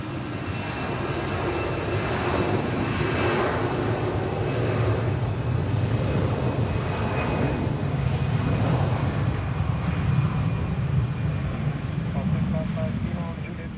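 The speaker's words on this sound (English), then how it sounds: "Now let's see the Air Canada landing." An Air Canada airliner landing at Zurich sends a steady, loud, wide jet roar throughout, with a faint voice beneath.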